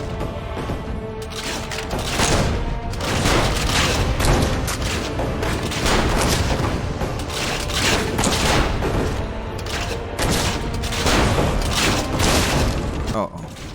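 Heavy gunfire and booming blasts from big guns in Assassin's Creed Revelations, a dense, continuous barrage of loud bursts with a voice talking over it throughout.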